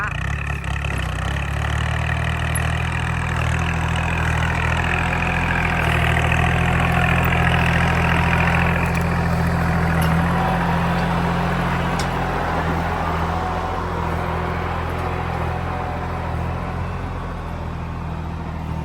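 A used 2011 Kubota L3008 tractor's engine idles steadily and fairly loud for the whole stretch, a constant low rumble with no revving.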